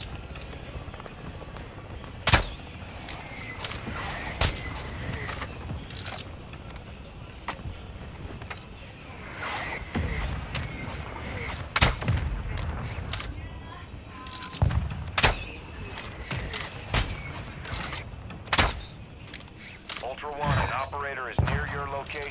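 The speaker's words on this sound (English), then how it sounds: "Friendly mortar strike inbound." Mortar strikes in the video game DMZ produce repeated sharp blasts and booms scattered throughout, some loud and close, others more distant, over a busy game soundscape while voices talk.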